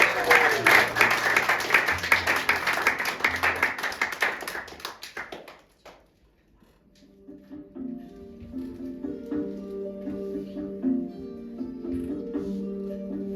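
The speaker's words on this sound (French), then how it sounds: "On applaudissements." Audience applause at a live fantasy-themed storytelling show: dense clapping and crowd noise for about six seconds, then a short hush before soft music begins.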